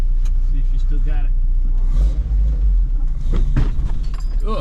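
Toyota 4x4 camper truck rumbling along neighborhood streets, a continuous close engine drone with road noise throughout and occasional engine surges.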